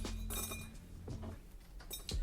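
Whole cinnamon sticks, green cardamom pods and cloves drop into a metal ISI whipper, giving a few light clinks and rattles spread over a couple of seconds.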